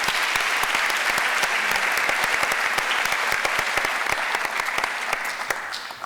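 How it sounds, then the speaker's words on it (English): Steady, dense applause from a large audience fills a student awards ceremony hall, loud and sustained throughout before easing slightly at the end. "let's give her a hand anyway"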